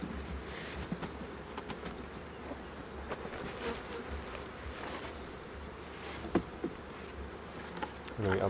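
Honeybees buzz around beehive splits just moved to a new site and unblocked, a steady close hum with individual insects droning past, faint and unbroken, no talk.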